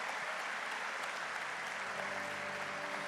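Church congregation applauding during a sermon, a steady wash of many hands clapping at moderate distance, with a low hum of voices or music underneath toward the end.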